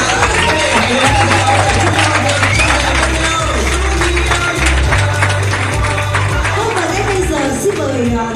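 Wedding guests applaud through a Vietnamese wedding reception in Bình Dương, sustained clapping over steady loud background music with a strong bass beat.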